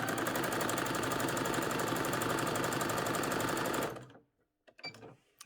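Running on a stretch stitch, a sewing machine sews a bodice seam in a loud, even, continuous whir for about four seconds, then stops; soft scattered clicks and handling noises follow in the quiet.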